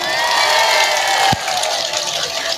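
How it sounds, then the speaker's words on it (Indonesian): Audience at an Indonesian Independence Day religious lecture clapping and cheering in a dense, steady wash of crowd noise, with a brief thump near the middle. "Tepuk tangan dulu dong."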